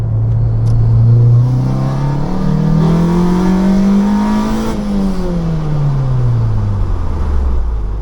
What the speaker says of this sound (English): We can go and take it out for a drive and see how it does down a very bad road